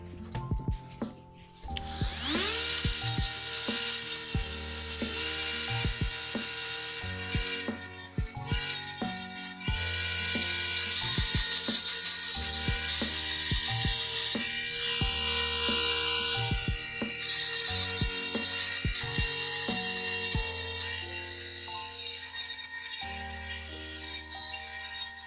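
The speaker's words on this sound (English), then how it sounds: "grinding off the paint so it actually sticks" Continuous harsh grinding as paint is ground off a 3D-printed costume prop, steady and loud for over twenty seconds with background music playing underneath.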